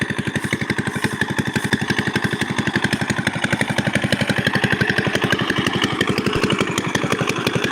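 A small irrigation pump engine drawing water from a canal chugs in a fast, even rhythm, a close, loud mechanical thrum that holds steady throughout.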